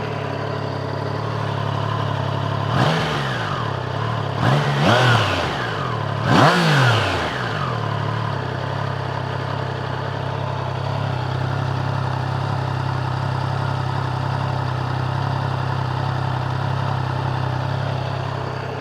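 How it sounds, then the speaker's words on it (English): A 2022 Triumph Tiger Sport 660 with a 660cc liquid-cooled inline triple and underslung exhaust cranks and fires up close by, gives a few sharp revs, then settles into a steady, even idle. "I'm just going to start this up so you can hear the exhaust."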